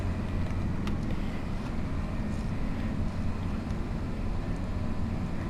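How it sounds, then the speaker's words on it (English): Tractor engine in Farming Simulator, driving along a farm map: a steady, loud low engine drone with constant rumble and no variation, heard alone without talk. "At least this tractor's got decent horsepower."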